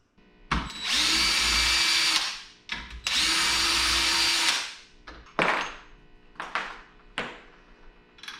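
A power drill whirs in two long sustained runs and then several short bursts while a cheap Amazon RZR clutch is taken apart, loud and close with no speech.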